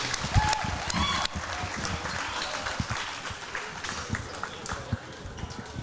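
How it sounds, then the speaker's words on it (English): A crowd applauds seniors on senior night at a high school girls' basketball game, steady clapping and cheering filling the gym with a few louder claps and shouts. "Let's hear one more round of applause for number 23, Megan Booth"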